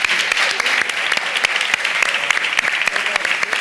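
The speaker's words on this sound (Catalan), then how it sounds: "Així que enhorabona i un aplaudiment" Audience at a Catalan comedy show applauds a prize winner, a dense, loud burst of clapping that holds steady for a few seconds with no voices over it.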